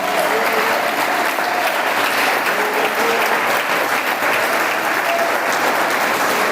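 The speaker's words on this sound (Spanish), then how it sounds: "Dele ese aplauso si desea hacerlo." A church congregation applauds during a sermon with loud, dense, unbroken clapping that fills the room at a steady level, while faint voices carry beneath it.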